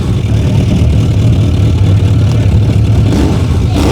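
A Suzuki GSX 750 motorcycle engine starts and revs right up close, a loud, steady low rumble that continues without a break, with a rise in the revs near the end.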